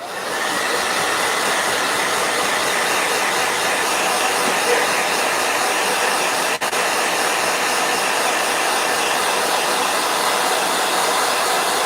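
A blow dryer runs steadily and loudly for the whole stretch, one continuous airy whoosh with a single brief dip partway through, alone without any voices.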